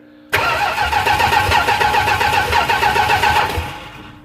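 A 1968 Dodge Charger engine with new distributor and points cranks without firing, the starter churning in a fast steady rhythm for about three seconds before winding down, loud and close.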